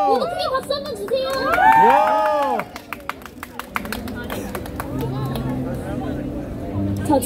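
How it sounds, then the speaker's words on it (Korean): A crowd at a Halloween street busking show in Hongdae claps in scattered, uneven bursts of sharp hand claps, mixed with shouts and lively voices and music from the performer up close. "박수 한번 주세요"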